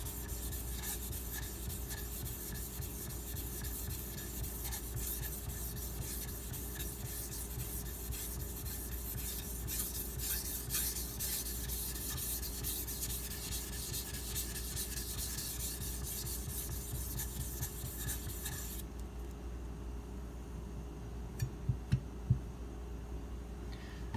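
A Karaku AS gyuto 210mm kitchen knife is drawn steadily across a wet whetstone, giving a continuous close gritty rubbing that stops near the end, followed by a few light taps.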